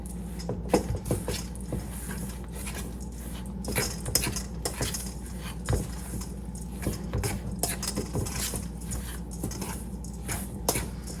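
A utensil stirs melted vegan butter into a clumpy oatmeal mixture for blueberry oatmeal bars, with repeated scrapes and clinks against a bowl in an uneven rhythm over a low hum.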